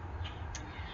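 A couple of brief, faint bird calls, crow-like caws, in an outdoor area near the Ohio River over a low steady background.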